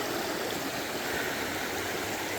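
A creek flows steadily close by, its broad, even rushing and babbling filling the whole stretch without pause, with no voices over it.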